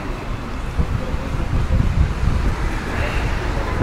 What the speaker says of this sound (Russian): Вот ветер подул.